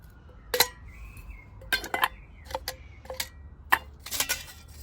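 Metal bowls from a Trangia T27 camping cook set being nested together, giving a scattered series of sharp clinks and clatters, some close and bright, with short quiet gaps between knocks.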